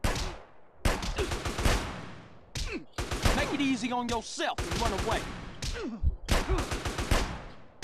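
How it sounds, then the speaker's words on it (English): Bursts of gunfire in GTA San Andreas crackle in several clusters, interleaved with someone talking over them. "There's gunshot"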